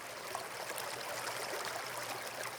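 A small babbling stream flows steadily, with a soft continuous watery rush and faint gurgles throughout, fairly quiet and with no voices.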